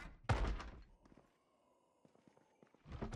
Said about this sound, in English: banging on the door is happening